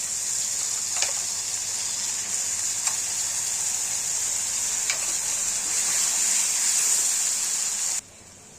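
Ground mustard spice paste fries in oil with reddened onions: a loud, steady sizzle with a few soft clicks that cuts off abruptly near the end.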